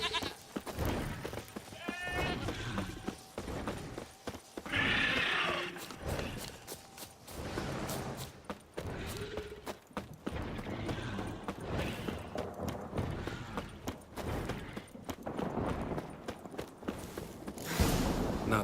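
A horse in The Witcher 3 snorts, whinnies and clops its hooves through a busy game soundscape, with bleating animals, clanks and other sounds layered around it at moderate loudness.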